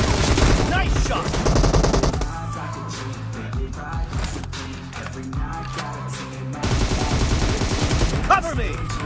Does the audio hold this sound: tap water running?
no